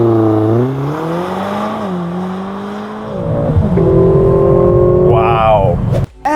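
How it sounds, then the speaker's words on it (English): A 2022 Mercedes-Benz C300 four-cylinder engine revs up and down in smooth sweeping pulls, rising in pitch, settling, then climbing again, loud and close before a brief cut near the end. "This is what a 4-cylinder Mercedes-Benz sounds like."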